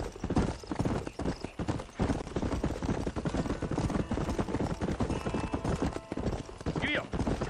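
Horse hooves clip-clop at a steady trot through a video game scene, loud and close, continuing under ambient game sounds, with a brief whinny near the end.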